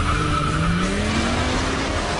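Street racing car tires squealing hard while burning rubber, a loud continuous screech with a rising pitch sweeping upward over a rough engine and road roar, sustained close up for the whole moment.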